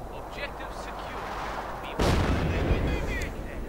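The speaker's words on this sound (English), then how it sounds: "his own artillery ends up doing most of the work, or at least the final work" In Company of Heroes 2, an artillery shell explodes suddenly and loudly midway through, following a bed of distant battle noise and scattered gunfire.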